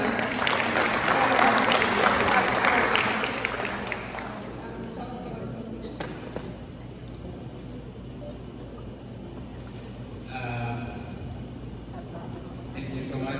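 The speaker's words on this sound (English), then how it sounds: "Another hand clap." Hand clapping from an audience at a community gathering of Ugandans in Canada, a dense burst in the first few seconds that fades into room murmur and voices.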